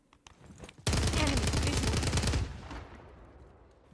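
VEL 46 submachine gun in Warzone 3 fired in one sustained rapid automatic burst of about a second and a half, loud and close, after a few faint shots and before a fading tail.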